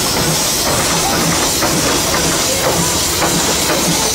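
A Huron tandem-compound steam traction engine hisses steadily as it creeps forward at an outdoor steam power show, with a continuous loud broadband rush of steam and faint rhythmic chuffs underneath.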